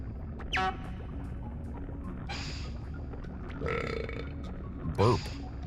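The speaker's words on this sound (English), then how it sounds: "Burp." Short comic burp effect from the Donkey Kong 64 video game, a low gurgling belch near the end, preceded by other brief game sound effects over steady background noise.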